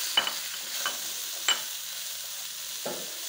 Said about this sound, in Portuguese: Então eu vou agora com a cebola, que está aí, que está fritando bem rápido